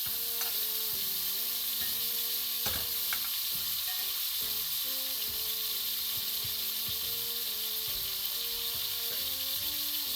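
Steak sizzling loudly in a hot pan while being basted with butter, a steady crackling fry with repeated scraping and clinking of a utensil throughout.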